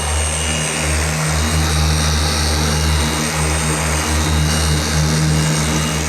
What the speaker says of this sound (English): Hopefully you can hear me over the polisher.